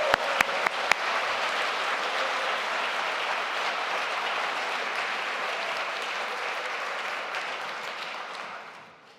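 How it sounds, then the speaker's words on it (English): A worship congregation gives a long, even round of applause for volunteers, dense clapping held at steady volume before fading out at the end. "Let's give them a particular round of applause."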